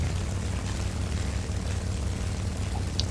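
The propeller engine of a Japanese Zero fighter plane in War Thunder gives a steady, low droning hum that stays constant throughout.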